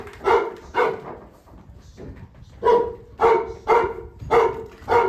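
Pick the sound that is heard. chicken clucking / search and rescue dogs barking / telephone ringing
search and rescue dogs barking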